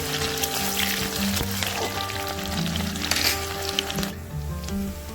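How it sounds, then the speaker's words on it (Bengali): Chopped onions fry in oil in a home kitchen pan along with whole spice tempering and dried red chillies, giving a steady, moderate sizzle that runs continuously and evenly with no voices. "পেঁয়াজ কুচি দিয়ে ভালো করে পেঁয়াজটা ভেজে দেব"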